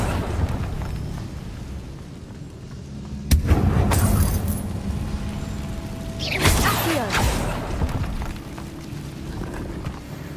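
Confringo fire spell cast in the Hogwarts Legacy video game, a magical whoosh bursting into a booming blast in a decaying catacomb, with a second surging swell and rumbling crackle over low ambient drone.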